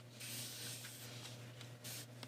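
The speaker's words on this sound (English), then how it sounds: "today we're going to be using a spray bottle with just plain old water inside of it." Spray bottle of plain water misting onto leather, a few steady hissing spritzes in close succession, loud and close with no talk.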